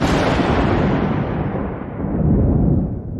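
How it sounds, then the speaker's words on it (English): A deep rolling boom of thunder, loud and sustained, rumbling for a few seconds before easing slightly and swelling again. "The sound of thunder filled the air."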